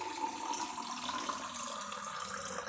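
Cold water poured into a glass and mixed for a drink, a steady close trickling, running-water sound lasting a few seconds without pause.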